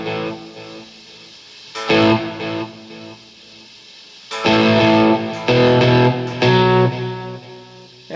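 Electric guitar run through a Modley delay plugin set to 1.5 repeats, in a virtual guitar rig: several loud plucked chords and notes, each followed by a fading echo tail, with short pauses between phrases.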